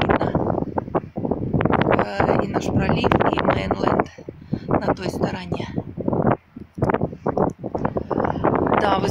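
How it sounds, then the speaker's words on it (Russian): Strong wind buffets the microphone outdoors on a sunny day by a strait, a loud gusty rumble that rises and falls under someone talking. "вы знаете, ветер не шуточный"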